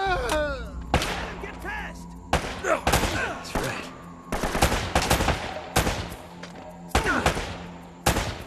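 Gunfire in the Uncharted video game cracks out as a series of sharp, loud shots at irregular intervals, with ringing tails between them.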